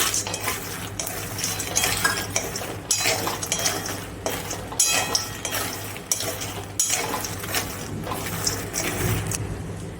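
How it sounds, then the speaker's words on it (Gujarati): Fox nuts (makhana) tumble and rattle in a pan as they are stirred, a steady clatter with repeated scraping strokes and light clinks, close and moderately loud. "હવે આપણે એમાં મખાના નાખીશું."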